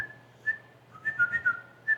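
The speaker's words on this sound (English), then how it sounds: "I love whistling, man." A person whistles a few short, bright notes in a quick tune, close and clear against a quiet background.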